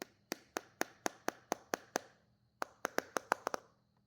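Sweet tamarind pod being knocked with the metal tool used to cut tamarind, giving a row of about a dozen crisp, close taps in a quick steady rhythm with a short pause midway.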